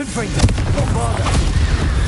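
In the video game Hogwarts Legacy, the Bombarda blasting spell sets off an explosion: a short, loud, booming burst with a dense low rumble, heard under a voice speaking.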